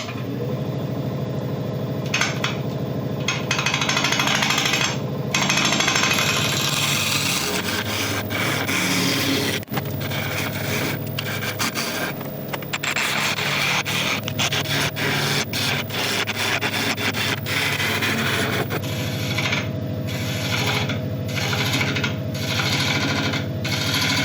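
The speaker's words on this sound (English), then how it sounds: "we're scraping the outside and just clearing off all this resin" An apple burl spins on a woodturning lathe while a scraping tool works the outside and clears off resin, producing a loud, continuous whir with a rough, rasping scrape throughout.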